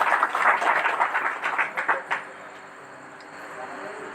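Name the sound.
audience clapping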